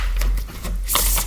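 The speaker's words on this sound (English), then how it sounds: "I'm going to shuffle right now" Tarot cards being shuffled by hand, a short run of papery riffles and slaps close by, with a louder flurry near the end.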